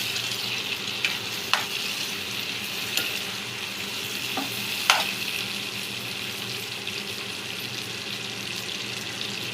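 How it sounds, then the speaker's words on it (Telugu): A spoon stirs a chicken and tomato fry in a pan, with a steady oily sizzle throughout and a few sharp scraping clinks against the pan. "ఒకసారి కలుపుకొని"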